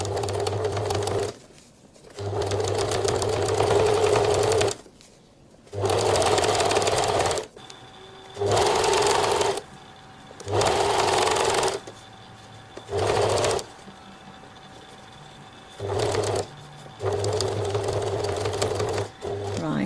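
A sewing machine stitches binding around the curved edge of a coat collar, running in loud, steady whirring bursts of a few seconds each, separated by short pauses as the fabric is turned; no talking over it.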